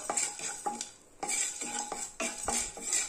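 Rock salt stirred in a hot kadai, repeated gritty scraping strokes of a metal spoon against the pan, close and rhythmic with short pauses between.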